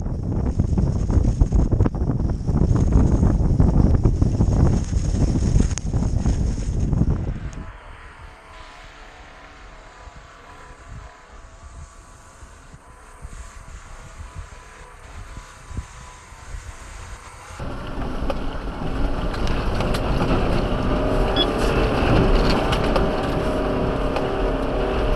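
A lifted Subaru climbs a hill through deep snow, its engine droning loudly under heavy wind buffeting, easing to a quieter stretch midway before surging loud again.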